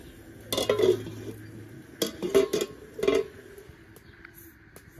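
Pot of hot sugar syrup lifted off a stove and set aside in a home kitchen, with a few sharp metallic clanks and scrapes in short clusters, close and clear with no talk.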